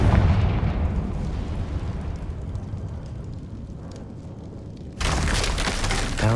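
Confringo spell blast in the video game Hogwarts Legacy, a loud booming explosion with a long rumbling decay, followed by a sudden burst of crackling debris noise near the end.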